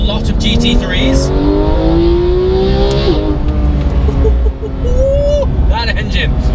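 A Porsche GT3 RS engine drones loudly as the car drives on a beach, its pitch climbing steadily before dropping and rising again, with faint voices now and then.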